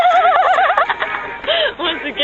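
A horse whinnies loudly and close by in a long, wavering neigh that rises and falls, then breaks into shorter repeated calls, with a busy noisy background beneath.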